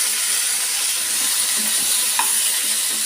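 Field beans hit a hot pan for a pithiki pappu and vankai curry, giving a steady, close sizzle with soft stirring scrapes throughout and no talking.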